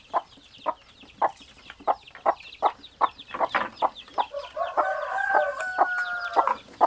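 Young chicks cluck and peep noisily for food on a small poultry farm, a rapid run of sharp calls close by, growing denser and more insistent toward the end.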